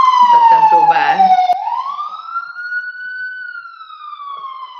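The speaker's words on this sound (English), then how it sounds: "It's a busy night out there for sirens." Police car sirens wail outside on a busy night, a loud sweeping tone that rises, then falls and trails off as the vehicles pass, with no voices over it.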